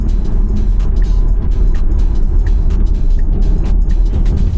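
Steady loud road and tyre roar with wind noise from inside a Tesla Model 3 accelerating up a highway on-ramp while towing, continuous with no talking.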